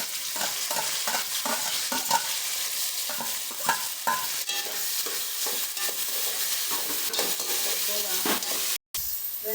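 Onions and tomato for chicken biryani sauté in a pan with a loud, constant sizzle and repeated scraping stirs, broken by one brief dropout near the end.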